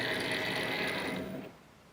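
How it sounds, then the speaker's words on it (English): Cricut cutting machine loading a mat with leather on it, giving a steady mechanical whirring and ratcheting from motors and rollers. The noise is close and continuous, then softens and thins out toward the end. "I'll hit the load button. And it's just reading, making sure I have enough material."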